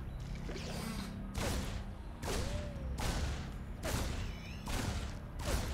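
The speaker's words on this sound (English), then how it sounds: "Look at those dual-wielded pistols." Rapid gunfire from dual-wielded pistols in StarCraft II comes in several loud bursts at regular intervals, set against steady game-ambience background noise.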